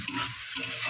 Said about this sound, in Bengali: চিংড়ি মাছটা কষাবার জন্য দিয়ে দিলাম জল। ভালো করে কষিয়ে নেবো।